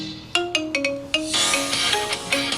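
A ringtone-style remix of the Jujutsu Kaisen anime opening in an Apple iPhone style plays with bright, plucked marimba-like notes in a steady rhythm, clear and fairly loud.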